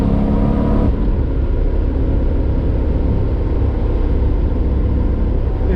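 Engine of a supercharged Toyota Supra at full throttle, a loud, steady, close rumbling roar held at high revs with a whirring edge and a slight drop in the upper tones near the start.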